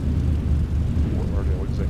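A small airplane takes off from runway 9 at Fort Lauderdale in Microsoft Flight Simulator, flaps set at 10 degrees. Its engine makes a steady, loud, low rumble that runs without a break.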